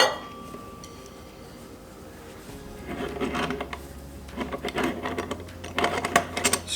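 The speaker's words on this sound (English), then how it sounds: "Screw the top piece on, assembling the mocha pot that is very hot, and give it a tight turn" A hot stovetop moka pot being assembled, its top chamber screwed onto the base through a cloth: metallic clinks and scraping twists building in intensity, with a low steady hum beneath.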